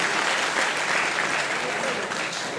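Sustained, dense applause from an audience at a village association pie-cutting event in Rafti, Arcadia, steady and loud throughout.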